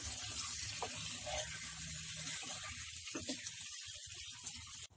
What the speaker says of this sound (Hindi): टमाटर डालने के बाद फिर से इसे अच्छे से भून लें.